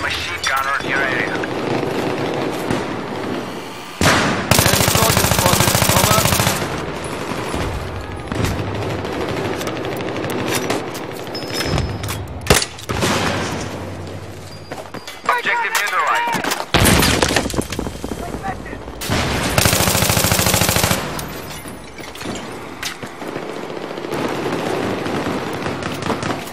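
Battlefield 3 played on PS3: loud, close bursts of machine gun fire crackle in repeated sustained volleys with scattered single shots, while in-game voices talk between bursts.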